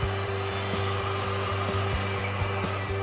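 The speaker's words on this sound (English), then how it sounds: "Use heat on the curves after taping to be sure the filament stays securely in place." A heat gun runs steadily close by, warming vinyl wrap over curved edges after taping, a constant whirring blow with a low motor hum and faint periodic ticks, no voices.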